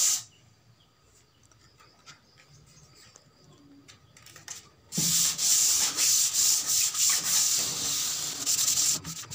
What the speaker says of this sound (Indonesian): Saya menggunakan tatakan amplas ini supaya lebih cepat atau lebih mudah untuk yang bagian